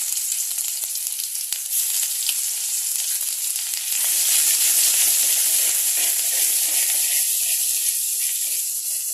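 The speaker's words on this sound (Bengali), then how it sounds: "কালো জিরা দিয়ে যতখানি আদা বাটা আছে তার আধা আদা বাটা আমি তেলের মধ্যে দিয়ে দেব।" Black cumin seeds and ginger paste hit hot oil in a pan, giving a steady close sizzle that swells louder partway through and keeps up a dense hiss to the end, with no talking.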